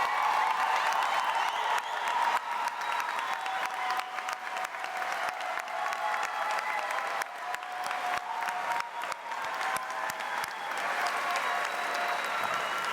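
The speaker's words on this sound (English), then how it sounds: "please join me in another round of applause for the accomplished class of 2018" Sustained applause fills a high school commencement ceremony as the audience honours the graduating class of 2018, a dense steady roar of many hands that holds evenly throughout, with faint whoops mixed in.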